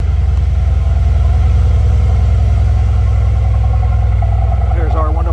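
Inside the cabin of a 2020 Mercedes-AMG C63S Cabriolet, the engine holds a loud, steady low rumble at idle throughout, with faint higher tones toward the end.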